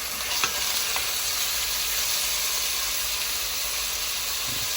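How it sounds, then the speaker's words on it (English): Beef browning in a pot for stew, a loud, steady close sizzle and hiss of frying meat with a few light stirring scrapes early on. "only gonna cook them to just like get them nice and brown and crispy on each side while we turn them"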